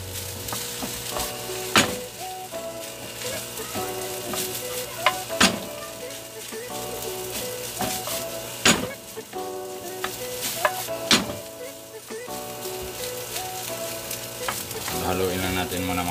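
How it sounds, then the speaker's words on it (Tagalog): Salted egg fried rice being stirred and tossed in a pan over steady loud sizzling, with occasional sharp utensil knocks against the pan, close up and without talk. "Haluin lang natin muna mga chef hanggang sa mamix na mamix."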